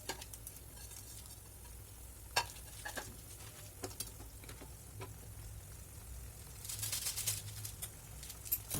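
Maggi noodles stirred into a pot of boiling vegetables give soft, irregular scraping and clinking strokes over a low bubbling simmer, with a louder hissing burst near the end.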